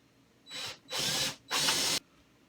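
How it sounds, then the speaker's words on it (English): Power drill with a spade bit boring a 7/8 inch hole in a pressed wood countertop inside a camper, three short rising whirring bursts, each stronger and longer than the last, close and fairly loud. "I'm going to cut a 7/8 inch hole in here."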